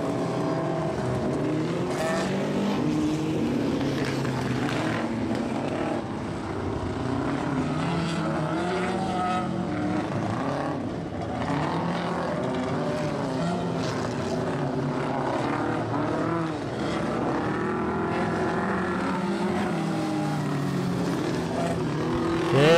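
A vintage 1963 Toyota Compact race car engine drones steadily as it passes at Archerfield Speedway, its pitch shifting slightly as it goes by, with constant background motor noise.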